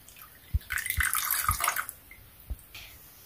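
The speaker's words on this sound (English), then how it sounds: "I'm going to put 140 milliliters of water." Water pours into a measuring jug in a short splashing burst, with a few soft knocks of a container being set down before and after.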